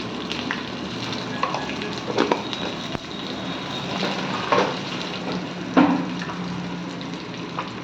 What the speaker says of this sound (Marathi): मस्त अशी खमंग फोडणी आपली तयार झाली आहे